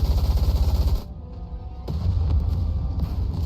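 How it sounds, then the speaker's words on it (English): Rapid bursts of gunfire in the game Goddess of Victory: Nikke, loud and dense, pause for about a second, then resume as a sustained barrage. "She thrusts her arm forward and a barrage of gunfire erupts."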